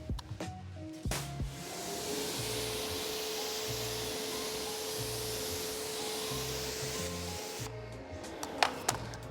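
A pump sprayer sprays a car tire with a steady hissing spray for several seconds, a low rhythmic pumping thud underneath and a few knocks at the start and end.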